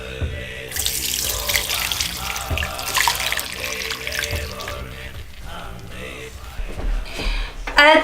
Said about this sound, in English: Add the water up to 3 liters.